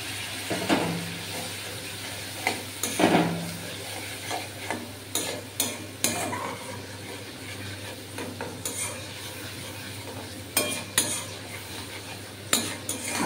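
A spiced tomato mixture is stirred and sautéed in a pan, with a spoon scraping and clinking against the metal in irregular bursts over a steady low sizzle, close and without talk.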